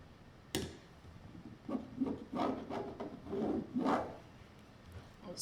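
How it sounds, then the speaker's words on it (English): A marking tool is drawn across quilting fabric in a handful of quick, scratchy rubbing strokes, close and fairly quiet, with brief pauses between strokes and no voices. "I'm going to draw my line quickly for you so that you can see it"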